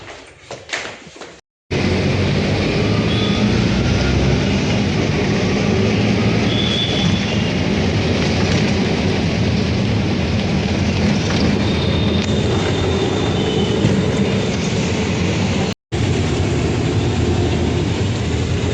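A train at Surat railway station makes a loud, continuous rumble with faint high whines. A short quiet gap comes near the start and another brief cut comes near the end.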